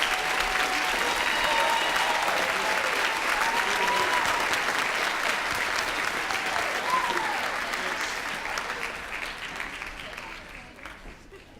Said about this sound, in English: A round of applause for the Student Council.